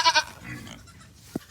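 A goat on a farm during morning chores gives a short, loud, wavering bleat up close, followed by quieter rustling and a brief thump.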